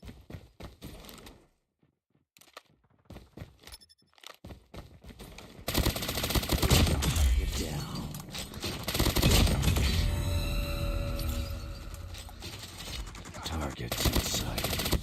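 Rapid submachine gun fire from the M13 in Call of Duty Mobile, quiet clicks and brief shots at first, then loud sustained bursts with game effects and background music.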